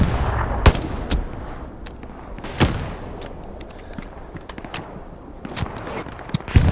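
Gunfire in the World War II shooter Hell Let Loose: scattered rifle and machine-gun shots crack out at irregular intervals, some close and sharp, others more distant, over a steady battlefield rumble.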